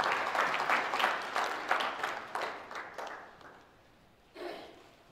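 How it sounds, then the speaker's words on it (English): An audience at a formal ceremony applauds the Ugandan ASA president, a dense burst of many hands clapping that swells at first, then thins and fades, with a short final flurry near the end. "let us clap hands for the Ugandan"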